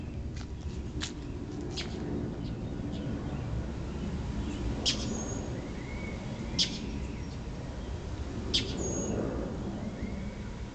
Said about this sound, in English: Can you hear the bird chirping?